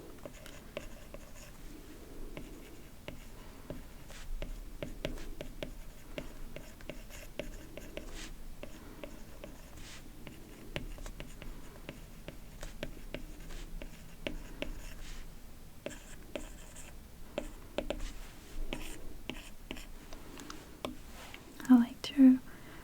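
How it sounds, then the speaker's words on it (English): Stylus tapping and scratching on an iPad screen while notes are written in the margins of a scientific paper, soft and close in a quiet room, with faint whispering throughout and a couple of louder taps near the end. "I like to write a bit in the margins of what the paragraph is about."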